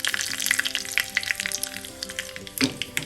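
Mustard seeds crackle and pop in hot oil for a Kerala cucumber pachadi, with curry leaves dropped in; a dense, close sizzle with scattered sharp pops throughout and a brief louder burst near the end.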